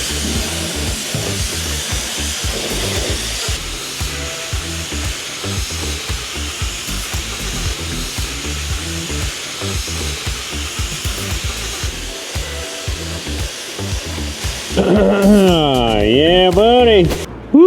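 A paint spray gun sprays epoxy primer onto the underside of a truck cab, producing a steady, loud airy hiss throughout while people talk over it, ending in a warbling air whistle.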